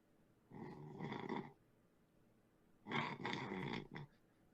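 Two long, rough snores with a pause between them, fairly close and moderately loud, with no one talking over them.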